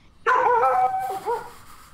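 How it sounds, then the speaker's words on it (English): A dog lets out a loud, close, drawn-out whining bark that wavers in pitch, followed by a softer trailing whimper, with no talking over it. "I think the dog agrees."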